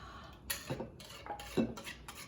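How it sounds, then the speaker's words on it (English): A whisk clatters against the side of a mixing bowl while a Boston cream pie filling is stirred, giving a few quiet, irregular metallic scrapes and taps close by. "Actually, I'm going to use the whisk. Whisking again."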